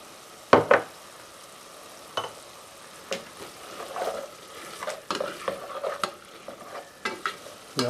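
Beef and garlic frying in a pot for chili, with scattered scraping stirs and intermittent sizzling bursts that grow busier toward the end, close by and with no talk.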